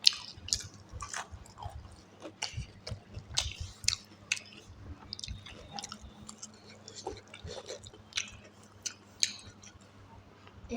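Wet chewing and soft smacking of a meal mixed with poured curd, close to the mic, with irregular bites and squishy mouth sounds repeating throughout and no talk.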